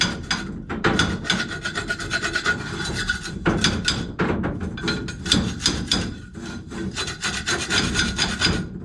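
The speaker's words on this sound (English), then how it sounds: "Let's just scrape off some of the gunkiness here." Hand scraping of crusty residue off a worn, rough hydraulic cylinder sleeve, a C-100 unit, heard as continuous harsh rasping strokes in quick rhythmic bursts, close and fairly loud with no talking.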